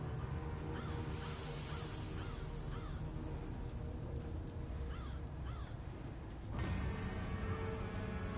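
A crow caws repeatedly within a game scene, several harsh calls spaced out over a steady background hum of music and ambience, fairly close and moderately loud.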